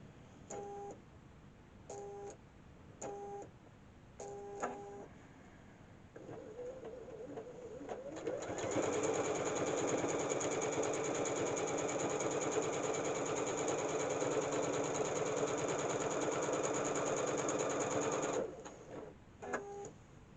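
A sewing machine quilting an embroidery wall hanging starts with a few electronic beeps, then runs in a long, steady, loud whir of fast stitching before stopping, followed by more beeps.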